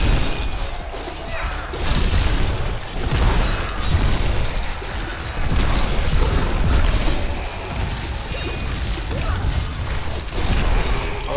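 Loud, dense explosions from a Necromancer's ability in Diablo 3 burst in rapid succession, with crashing, shattering impacts and whooshes layered into a continuous, chaotic roar.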